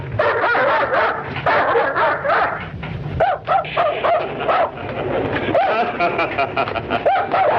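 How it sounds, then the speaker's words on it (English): A dog howls and barks in a horror film, with drawn-out wavering howls and yips mixed among people talking, loud and close throughout. "tell him to take that howling mutt with him"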